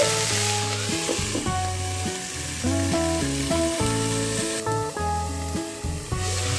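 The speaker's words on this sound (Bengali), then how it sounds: "ব্রোকলিও আমি ঢাকনা দিয়ে নেড়ে চেড়ে ভেজে নেব।" Broccoli frying in a pan gives a constant bright sizzle, with occasional stirring, under loud melodic background music.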